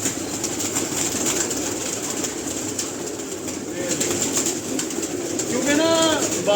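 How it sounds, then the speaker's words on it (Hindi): Pigeons stir and coo around a loft as its door is opened for them to go inside, the fluttering and calls building toward the end over a steady background hum. "ले जी, दरवाज़ा खोल दिया, कबूतर जाएंगे अंदर"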